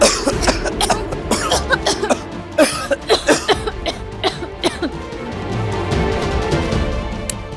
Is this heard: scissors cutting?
no